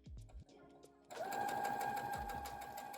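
A sewing machine stitches a fabric hem in a steady, close whirring run that starts a third of the way in. A few soft knocks and rustles of handling the cloth come first.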